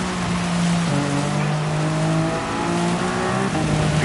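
A Porsche race car in a racing video game, its engine droning and shifting pitch steadily as it accelerates, loud and close with faint tire noise.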